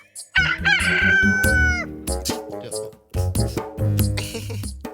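A rooster crows loudly and close by, one long call, followed by a jumble of clucks and other farmyard noise.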